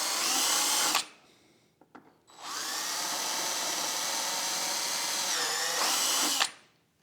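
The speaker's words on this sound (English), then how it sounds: "I'm just kind of holding this center piece still and drilling this out" A power drill whines loudly in two long bursts, pausing briefly between them, its pitch wavering as it drills out a plastic center piece.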